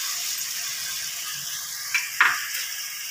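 Soaked cumin and coriander powder hits hot oil, giving a soft continuous hiss broken by two sharp spattering bursts partway through.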